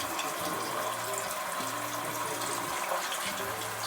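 Butterfly chicken pieces deep frying in hot oil, a dense steady sizzle and hiss without breaks, close and consistent.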